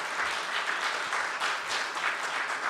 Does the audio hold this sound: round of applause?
yes